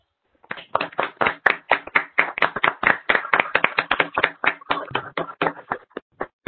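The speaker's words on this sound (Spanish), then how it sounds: "le regalen un fuerte aplauso" Applause at an online academic session, a cluster of close, crisp hand claps in a quick rhythm that starts abruptly and thins out at the end.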